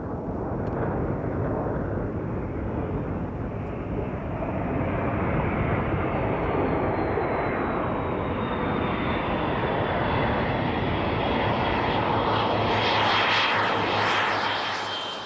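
F-117 Nighthawk stealth jet engine roaring steadily and loud for the full length, with a faint turbine whine that rises slightly toward the end, and no voices.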